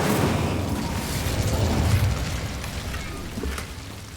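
Incendio fire spell cast in the video game Hogwarts Legacy: a loud, sustained rushing burst with low booming energy, roaring steadily for several seconds with a slight swell midway.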